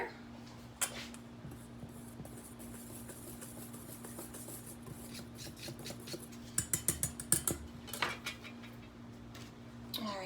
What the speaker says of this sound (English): All right, we're just going to whisk that all together.